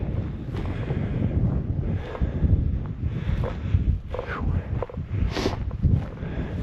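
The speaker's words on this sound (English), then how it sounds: "Wind's laid down to a tolerable level." Desert wind blowing at sunset, a steady broadband rush buffeting the microphone with gusts throughout, close and fairly loud.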